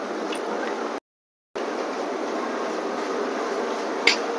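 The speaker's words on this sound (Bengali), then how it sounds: "ছেড়ে দিল ট্রেন ইগাতপুরী স্টেশন।" Gitanjali Express pulling away from Igatpuri station, a steady, close rumble of the moving train with a brief dropout near the start and a short sharp click toward the end.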